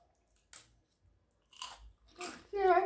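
Someone bites into and chews food during a poison-eating game, a few short crunchy bites followed by chewing up close, with a voice speaking briefly among the bites.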